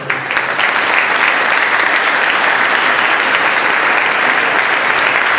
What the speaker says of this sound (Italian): Quindi l'applauso questa volta fatevelo a voi.